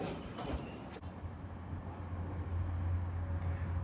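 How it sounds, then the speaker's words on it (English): A train pulls into a station in Ireland, its steady low rumble and rail noise building loudly from start to finish, with a sharp shift in the hiss around one second. "So folks, here comes our train."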